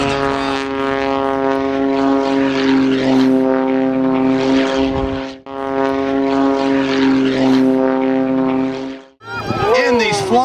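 Propeller airplane flying aerobatic maneuvers at the Point Mugu air show, a loud, close, steady engine drone with strong whining harmonics that dips briefly, then a short burst of voice at the end.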